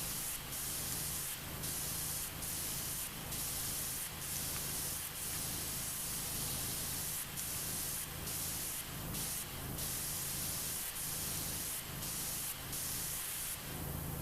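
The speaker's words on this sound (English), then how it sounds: "Let's spray down this a little bit." A pressure washer blasting cleaning spray in PowerWash Simulator 2, a loud steady hiss running continuously, broken by short bursts and pauses as the nozzle sweeps across surfaces.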